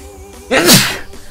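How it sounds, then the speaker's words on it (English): A single sharp sneeze rises abruptly out of quiet background music during a Brawl Stars hide-and-seek stream, brief and close. "Guys, sneeze!"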